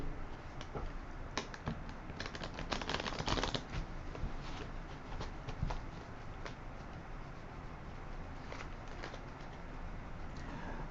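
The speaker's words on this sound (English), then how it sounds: "Let me shuffle these a little more." Tarot cards shuffled by hand, a run of soft rapid riffling and tapping patters at close range, steady throughout without talk.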